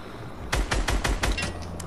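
Rapid gunfire in a multiplayer shooter video game as a target is shot down: a quick burst of about six loud, close shots in steady rhythm, then the noise tails off.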